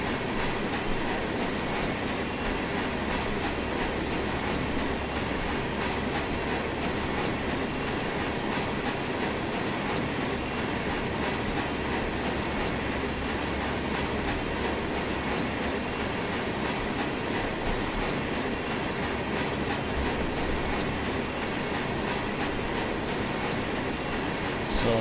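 A Union Pacific freight train in the Run8 train simulator rolls slowly at about 9 mph, giving a steady, continuous rumble of wheels and cars with faint rhythmic clatter that lasts throughout, with no talk.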